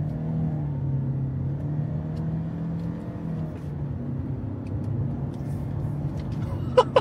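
A 2025 Chery Tiggo 2 Pro 1.5L CVT engine hums steadily at low revs, holding gear on a downshift, a constant drone with slight shifts in pitch, close and continuous throughout.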